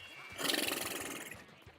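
A person imitates a horse with a lip trill, a single buzzing, whinny-like flutter lasting about a second before it fades.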